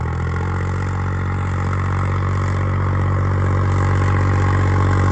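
A Holland 5620 tractor pulling a 17-tine cultivator after two years, its diesel engine a loud, close, steady drone that holds unbroken throughout.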